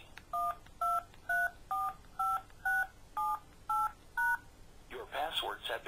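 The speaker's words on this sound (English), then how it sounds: "Type in 4 or more digits you'll remember, followed by the pound key." Nine evenly spaced telephone keypad DTMF beeps sound in steady succession as a voicemail PIN is entered, each tone short and clear, followed by a brief spoken reply.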